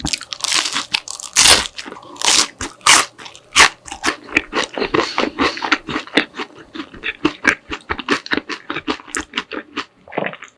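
Crunchy fish-shaped bungeoppang pastries, including red bean, custard cream and kimchi fillings, are bitten and chewed up close in a steady series of crisp, crackling crunches, with no talking.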